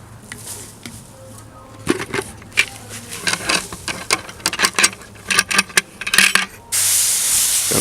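Water is sprayed onto damp paper covering a worm bin, heard as a string of short hissing spray bursts in an uneven rhythm, ending in a longer, louder continuous hiss.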